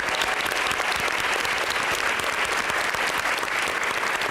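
An audience at an Amnesty International USA event on gun violence gives the executive director a dense, sustained round of applause, loud and even throughout, with a faint murmur of crowd beneath.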